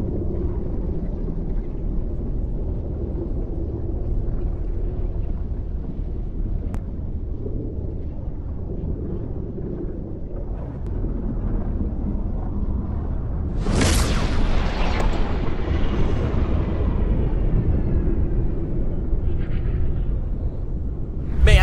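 Fortnite's zero point in a video game pulses once, a sudden booming blast that cuts through a steady low rumble partway in and leaves a lingering roar.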